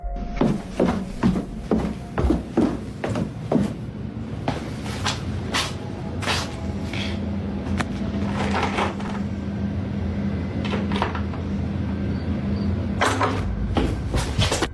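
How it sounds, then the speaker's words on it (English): A basement door handle yanked repeatedly, a run of sharp rattling knocks and clacks in quick bursts, then a steady low hum before a few more jolts near the end; fairly close and alone, with no voices. "something seems to move, and the door handle is yanked"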